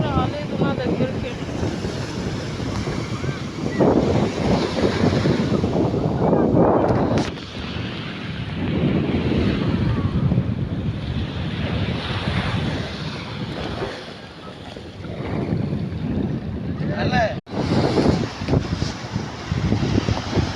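Ocean waves on a beach make a loud, steady broadband roar that runs almost unbroken for the whole stretch, swelling and easing slightly, with voices faintly mixed in.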